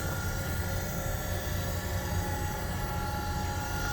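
An Okamoto 6x18 Linear 618 manual surface grinder runs with its spindle turning, a steady, even whirring hum with broadband noise, continuous and close with no breaks.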